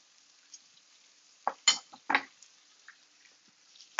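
A spoon stirring food in a pan of escarole and beans gives a few scattered scraping and clinking strokes, close and fairly faint, separated by quiet gaps.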